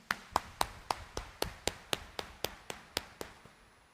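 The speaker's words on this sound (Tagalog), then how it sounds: "itaas ang kamay at pumalakpak ng mas malakas" A church congregation claps in unison at an early-morning Mass, about fourteen sharp, evenly spaced beats in a steady rhythm that stop near the end, with faint room echo between claps.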